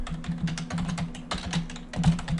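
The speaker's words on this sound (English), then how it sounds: "So now I just start typing KA" Rapid typing on a computer keyboard, a dense run of close, moderately loud key clicks in uneven bursts over a steady low hum, with no talking.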